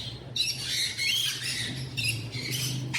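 A ringneck parakeet squawks in a pet bird shop in Islamabad, giving loud, close, harsh calls in repeated bursts over a low background hum.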